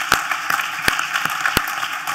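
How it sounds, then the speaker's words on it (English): Audience at a cybersecurity summit's closing session giving a short round of applause, scattered claps with a few sharper hand smacks standing out, moderately loud and without talk. "We could just join me in a round of applause for them."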